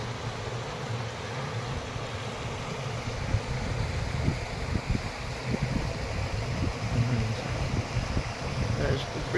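A river runs through a little gorge along the Dava Way in Moray, a steady broadband rush of water that holds continuously, with faint low thumps and wind mixed underneath.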